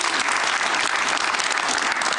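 Loud, even applause from a studio audience at a Georgian late-night talk show, a continuous wash of clapping with no break.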